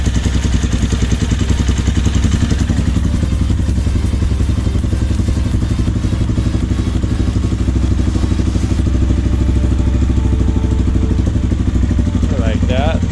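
A Yamaha TT250 motorcycle fitted with a Mikuni carburetor idles close by with a steady, loud, rapid thumping pulse and some mechanical clatter, continuing unbroken throughout.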